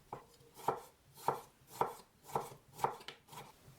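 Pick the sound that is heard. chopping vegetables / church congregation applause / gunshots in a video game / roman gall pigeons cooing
chopping vegetables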